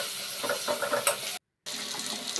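Chopped tomato, onion and green chilli are stirred together in a pan for a rui fish curry, giving a close, steady sizzle with scraping stir strokes, broken by a brief silent gap before the frying resumes.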